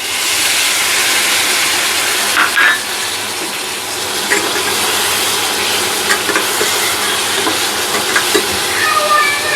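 Spice paste of ground cumin, coriander, Kashmiri chilli and turmeric added to hot oil with pointed gourd, sizzling loudly and steadily close up, with scraping and stirring clatter over the frying.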